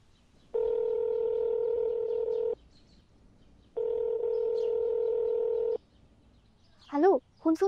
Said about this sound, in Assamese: ময়ো তাইলৈ কল এটা কৰি চাওঁ